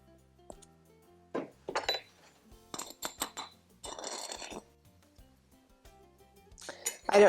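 Whole wheat flour spooned into a measuring cup, with a few light metallic clinks and soft scooping rustles separated by pauses, faint and close.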